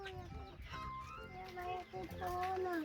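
A rooster crows in a rural Lao village with other fowl clucking around it. Its drawn-out calls rise and fade nearby while people talk in the background.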